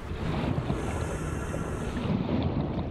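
The Seamoth submersible in Subnautica gives off a loud, continuous low rumbling drone with a watery, whooshing wash, steady and close for the whole stretch.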